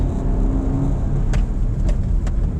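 A 2023 Suzuki Dzire sedan pulls at about half throttle after a downshift, its engine a steady close-up drone with a short tone that fades early and a few sharp clicks near the end.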